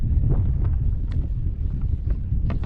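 Steady wind buffets the microphone out on the water during inshore kayak fishing, a loud continuous low rumble with gusty swells and small knocks, no voices.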